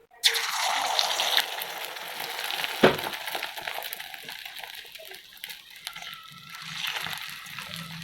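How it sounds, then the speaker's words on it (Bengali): An egg slides into hot oil in a kadai over a lowered flame, setting off a sudden burst of crackling sizzle that settles into a steady, softer hiss, with a dull knock partway through. "ডিম দিয়ে দিই"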